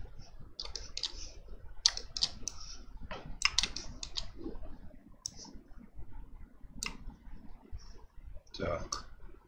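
Keys on a computer keyboard click in irregular bursts of taps and single presses during 3D modelling work in Blender. The clicks are close and crisp, with someone speaking quietly between them.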